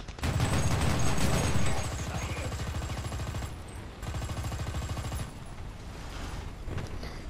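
Rapid machine-gun fire in War Thunder combat: a loud, steady rattle of closely spaced shots with some mechanical clatter, continuing almost without pause and no talking over it.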